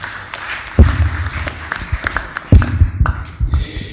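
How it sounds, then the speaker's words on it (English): Audience applause in a church setting after a homily reading, with scattered, uneven claps and heavy low thumps close by, fairly loud with no talk over it. "Give him a round of applause."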